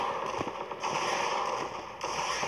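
Rapid, continuous machine gun fire in the zombie shooter game Zombie Defense, a dense rattling stream of gunfire that runs steadily throughout.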